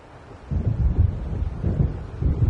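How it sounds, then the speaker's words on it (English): Approaching thunderstorm in the video game Alan Wake Remastered: low rolling rumbles in a few swelling waves over wind-like noise, fairly loud and with no voices. "It seems there's a storm coming."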